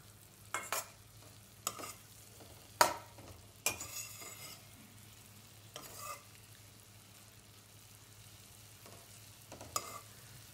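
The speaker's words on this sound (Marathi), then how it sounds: "परत आपण परतवून घेऊया." Vegetables for pav bhaji stirred and fried in a pan over a soft background sizzle, with a spatula scraping and clicking in short, irregular strokes.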